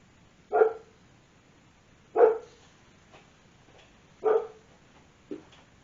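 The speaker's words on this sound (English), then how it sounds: "that is my dog, angry that there's cats in the yard" A dog barks at cats in the yard: three sharp, loud barks spaced about two seconds apart, then a shorter fourth yip, with quiet room tone between them.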